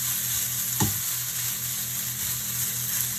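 Chow mein ingredients fry in a pan with a steady close sizzle, broken once by a brief stirring clatter, continuing evenly without talk.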